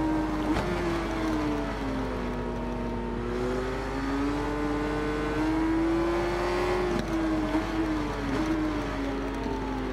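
A superbike engine in the Ride 4 racing game hums steadily throughout, its pitch rising and dipping gently as the bike runs, continuous and fairly even in level with no talk over it.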